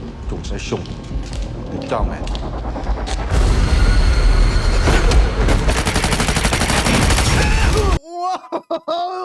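Gunfire erupts in a Daredevil TV scene, rapid sharp shots and booming blasts crackling under dense action sound, followed by a person talking.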